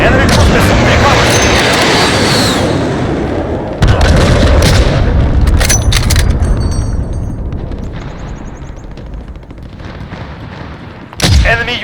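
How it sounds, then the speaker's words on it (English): Heavy airstrike and cruise missile explosions in Call of Duty: Modern Warfare Ground War, with loud sustained booming rumble, a fresh blast near four seconds and another near eleven, amid gunfire and game callouts. "Allied precision airstrike incoming"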